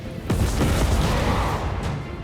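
Cannon fire in the video game Total War: Warhammer III, a deep booming blast followed by rumbling, crackling battle noise that slowly fades.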